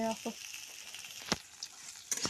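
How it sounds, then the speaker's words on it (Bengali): Crackly sizzling of pointed gourd and potatoes frying in a pan, with a few louder spatters and clinks of stirring over a steady hiss. "এখন করছি পটল দিয়ে আলু দিয়ে ভাজা করে নিচ্ছি"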